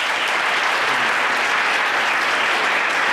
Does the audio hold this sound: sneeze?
no